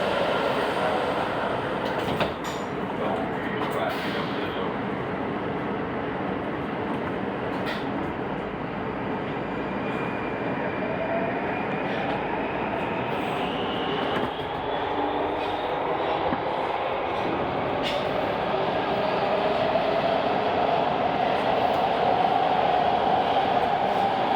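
Inside a WMATA 6000 series Alstom yellow line metro car departing Mount Vernon Square, a steady rumbling roar of wheels and motor fills the space, with a rising whine as the train gathers speed.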